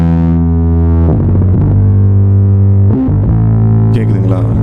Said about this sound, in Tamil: இந்த பேரலல் ட்ரம்ஸில் என்ன பண்ணிட்டேன்னா, இந்த கன்சோல் ஷேப்பரோட சேர்த்து ரெட் லைட் டிஸ்டார்ஷன் அப்படின்னு சொல்லிட்டு ஸ்டுடியோ ஒன்னோட இன்பில் ப்ளகின்